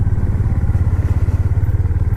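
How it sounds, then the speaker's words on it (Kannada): A Honda CB350 motorcycle cruises along with a close, steady, rhythmic thumping from its engine, even and loud throughout with no voices. "after long time bike ride ಮಾಡ್ತಾ ಇದ್ದೀನಿ"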